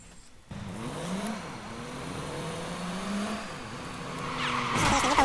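A car engine in the video game Watch Dogs revs and climbs in pitch while driving, with squealing tires near the end, close and steadily growing louder.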